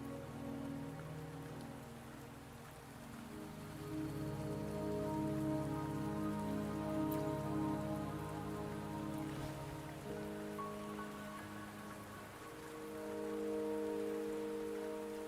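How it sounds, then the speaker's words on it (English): Rain falls steadily in the Wuthering Waves video game, a soft continuous patter on surfaces that swells and eases over about fifteen seconds, with sustained musical tones running beneath it. "Don't worry, the rain won't last much longer"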